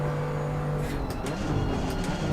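A GT race car in Assetto Corsa Competizione braking hard into a corner, its engine note dropping with a burbling downshift and crackle over a couple of seconds, loud and close, with no talking.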